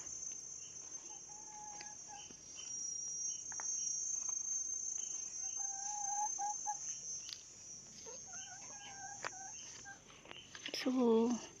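Scattered chicken clucks come in short bursts over a steady, high insect chirring, with a louder squawk near the end.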